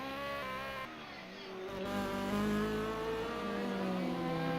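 Race cars in a sim racing game at Dover Raceway: a continuous high-pitched engine whine, steady and loud, with pitch sliding up and down as cars accelerate and pass. No talking.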